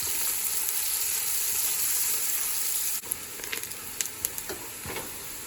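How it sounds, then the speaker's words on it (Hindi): Two sliced onions hit hot oil in a cooking pot for beef pilau, a loud continuous sizzle that suddenly drops in level partway, then quieter frying with sharp crackles and pops. "अब हम इसमें प्याज डालेंगे।"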